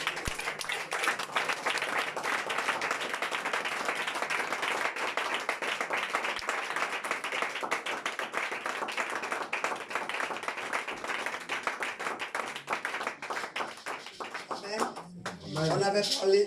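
Loud, sustained applause and clapping from a church congregation fills the space steadily, with voices mixed in and a brief shift toward the end.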